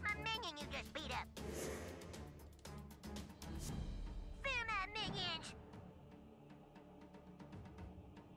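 A cartoon cat meows in the South Park: The Fractured But Whole video game, several short cries over game music, with character voices talking around them.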